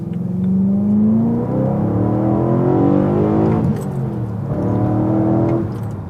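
A BMW E92 M3 engine revs loud and close for about six seconds, its pitch climbing and falling in repeated smooth sweeps with a steady, rich growl underneath.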